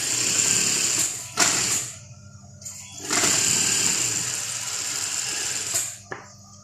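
A sewing machine runs in bursts while stitching a dress hem, its steady whirring motor stopping briefly and starting again several times, close and fairly loud.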